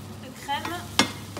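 Food sizzling in a pan while being stirred, a soft continuous sizzle broken by a couple of brief scraping clinks of the utensil.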